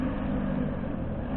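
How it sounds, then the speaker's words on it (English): A motorcycle engine drones steadily in the distance while anglers fish for crappie outdoors, a low, continuous muffled hum with no voices over it. "That's a motorcycle."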